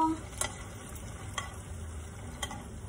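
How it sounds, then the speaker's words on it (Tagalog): Potatoes frying and sizzling in a pan with occasional stirring scrapes, a steady close hiss throughout with no talking. "Nagpiprito tayo ng patatas dito."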